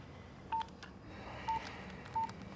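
Telephone keypad tones as a number is dialed on a phone, four short clear beeps spaced unevenly over a faint room background.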